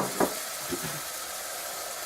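Oil sizzles in a pan over high heat while chana masala is cooked, a steady close hiss with a couple of brief crackling bursts near the start, no voices.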